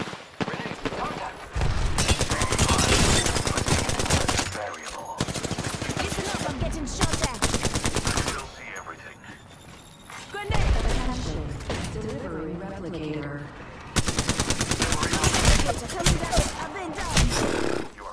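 Loud automatic gunfire in Apex Legends, several long sustained bursts of rapid shots separated by brief lulls, with game voice callouts and effects mixed in.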